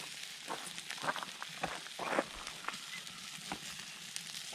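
Bratwurst sausages sizzle on a camp stove at a campground. The frying crackle is quiet and close, with irregular pops and spits and no talk.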